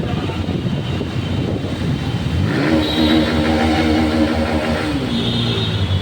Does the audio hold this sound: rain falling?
no